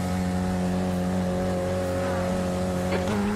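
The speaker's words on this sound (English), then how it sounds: "This engine is a little loud." A race car engine in the iRacing sim, held at the pit lane speed limit, drones loudly and steadily throughout with a constant buzzing pitch and a slight shift near the end.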